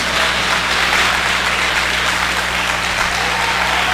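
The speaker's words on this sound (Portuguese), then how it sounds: "Um aplauso pela vida do bispo" A church congregation applauds for the bishop, a broad, even wash of clapping held at a constant level, with a low steady hum underneath.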